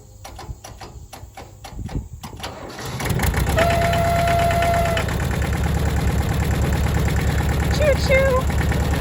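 A 1977 Allis Chalmers 5020 diesel tractor runs with a low, steady chugging rumble after some clanking at the start. A brief whistle-like tone sounds over it.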